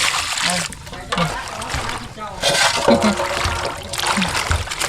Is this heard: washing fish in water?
yes